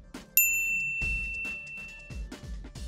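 A bright bell ding sounds once as a notification effect near the start, over a faint, busy background of soft thumps.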